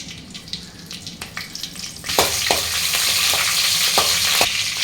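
Whole cinnamon and cloves dropped into hot oil for a squid fry, giving a steady close sizzle that jumps louder midway, with crisp stirring clinks and scrapes over the frying.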